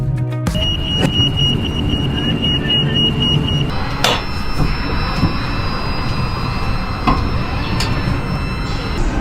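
Steady rumbling hum of a high-speed train accelerating toward Daxing, Beijing, with occasional clunks and a faint high whine from the carriage, no talking.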